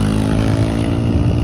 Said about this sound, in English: Just got kids jumping on freaking motorcycles